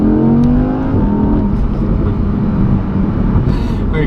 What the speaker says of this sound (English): We got some nice backfires from the exhaust in between shifts.